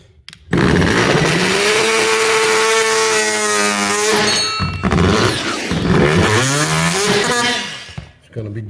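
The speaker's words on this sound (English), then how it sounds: "Well, I took that oscillating saw." An oscillating saw buzzes loudly and close as it cuts into floor trim in a mobile home, its whine wavering in pitch across two long runs separated by a brief pause.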